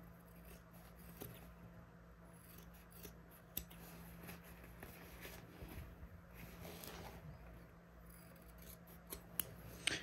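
Scissors snip through fabric while trimming a corner on a sewn bag, a faint series of small close cuts over a quiet steady hum.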